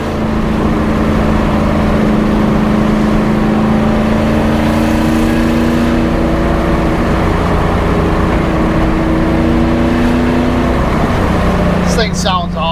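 A third-generation Chevrolet Camaro with a newly installed Hughes 3000 stall torque converter revs and pulls hard, its engine note rising steadily and loud, then backing off near the end as a voice starts to speak.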